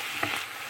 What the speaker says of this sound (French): Donc le tofu est revenu, les légumes ont été cuits